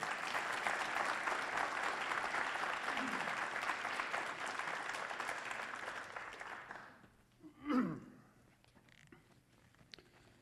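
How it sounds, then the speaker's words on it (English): An audience at a last-lecture event gives warm, sustained applause for about seven seconds. It fades out and is followed by a brief thump and faint rustling. "So, if we can all give a big warm round of applause to Don McIsaac."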